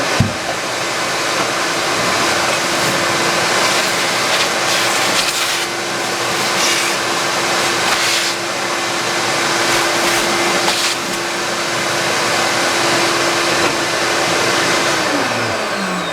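A milling machine drills holes in metal with a loud, steady whine and rushing hum that holds for about fifteen seconds, with faint clunks along the way and a drop in pitch near the end.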